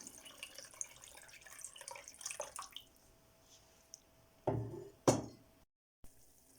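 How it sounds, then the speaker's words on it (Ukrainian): Broth is poured into a pot of zucchini soup with meatballs: faint kitchen clinks and trickling give way to two short, louder gushes of liquid, followed by a brief silence. "і заливаю бульйоном"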